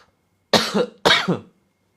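Two deliberate coughs in quick succession, close and clear, with silence before and after.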